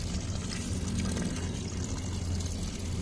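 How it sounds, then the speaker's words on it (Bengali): Water poured onto garden plants in the morning, a steady close splashing and trickling stream that runs unbroken for a few seconds without talk. "আমি এখন সকালে গাছে জল দিচ্ছি।"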